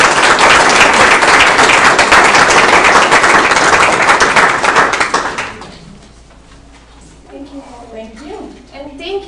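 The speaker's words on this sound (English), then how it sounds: "so let's give her a round of applause." Audience applause for a speaker at a talk on olive oil, loud dense clapping for about five seconds that fades away, followed by quieter room noise and a voice speaking.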